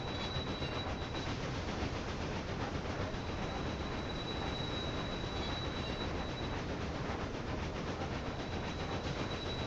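A cargo train moves through the railway game Railway Empire 2, its rolling wheels making a constant, even rumble with a thin steady whine above, close and uninterrupted, with no one talking.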